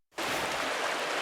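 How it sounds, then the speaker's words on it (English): Steady rushing waterfall in the video game Pentiment, a dense, continuous wash of falling water starting abruptly and holding loud and even throughout, with no voices. "Waterfall."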